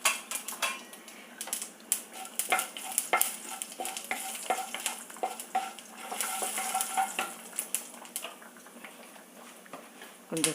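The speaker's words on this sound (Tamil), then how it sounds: "எண்ணெயில் கொஞ்சமாக கடுகு பொரியட்டும்." Mustard seeds spluttering in about half a tablespoon of hot oil for tempering, with sharp irregular pops and crackles over a constant sizzle, close and fairly loud.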